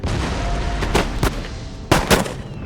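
Artillery and musket fire in the Empire Total War game, a loud dense rumble of battle punctuated by several sharp cannon-like blasts, heavy and continuous.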